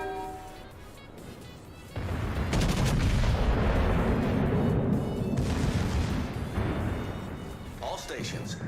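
Warship artillery fires in World of Warships as a loud, sustained rumbling barrage of heavy booms rolling on for several seconds, with a voice talking over it.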